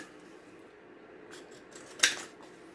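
Scissors snip into a cardboard toilet roll tube in a quiet room, with a soft rustle and one crisp cut near the end.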